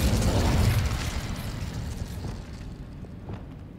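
Incendio fire spell cast in a Harry Potter video game, a loud whooshing burst of flame that flares at once and then rumbles and fades steadily over a few seconds, with no talking.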